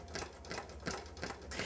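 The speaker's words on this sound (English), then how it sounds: "I'm just going to run a basting stitch along this upper edge" A longarm quilting machine sews a basting stitch, making a fairly quiet, close, rhythmic chatter of needle strokes in about four even bursts, with no talking.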